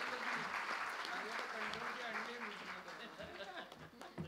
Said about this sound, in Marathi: माझ्या टीमसाठी एकदा जोरदार टाळ्या झाल्या पाहिजेत